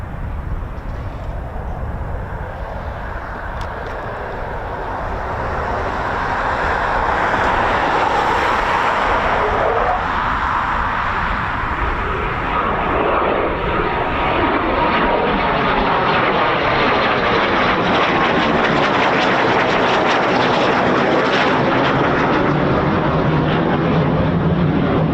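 A Eurofighter Typhoon FGR4 jet performs a touch and go at RAF Coningsby, its engine roar swelling from a distant whoosh into a loud, sustained, sweeping jet rumble as it passes close by.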